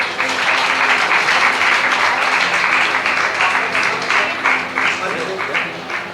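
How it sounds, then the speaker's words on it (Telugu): A congregation at a pastor-led Christian engagement ceremony claps together in a thick, continuous round of applause that holds steady for several seconds before easing slightly. "చప్పట్లు కొడదామండి."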